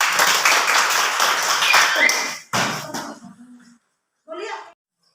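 A classroom group claps hands in a dense, busy patter for a couple of seconds before it stops abruptly, followed by a person speaking in short phrases with pauses.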